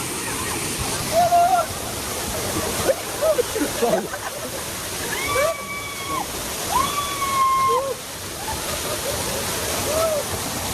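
At Kangthi Langso Waterfall, falling water roars as a loud continuous wash close by, while people talk and call out over it throughout.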